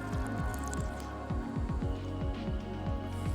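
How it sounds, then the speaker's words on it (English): Hands scooping and drinking water in the DayZ survival game, a run of repeated wet squishing, dripping gulps in a steady rhythm, close and fairly loud with no talking. "I'm using my hands to drink now that they're clean."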